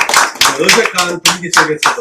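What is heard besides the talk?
congregation clapping hands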